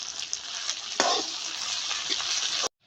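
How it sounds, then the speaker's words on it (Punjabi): Sliced onions and potatoes fry in a pan, giving a steady hiss of sizzling oil with a few stirring scrapes, then stopping abruptly near the end. "ਦੋ ਮਿੰਟ ਆਪਾਂ ਪਿਆਜ਼ ਨੂੰ ਤੇ ਆਲੂਆਂ ਨੂੰ ਸੇਕ ਲਵਾ ਲਿਆ"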